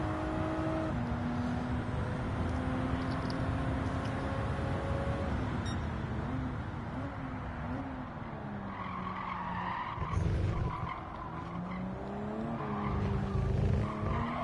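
A 2020-spec Toyota Supra race car in Gran Turismo 7's Toyota Cup, engine droning and shifting pitch with gear changes while tires squeal and skid through corners, steady and loud throughout.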